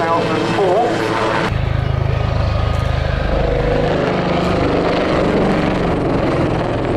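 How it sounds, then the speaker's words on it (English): A Westland Lynx helicopter's rotor and engine roar loud and close at an air display, with a steady low thrum and a rising whine as it manoeuvres. "The agility of the Lynx, much in evidence here. It is a very agile helicopter, isn't it, George?"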